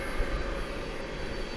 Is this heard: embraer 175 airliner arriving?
yes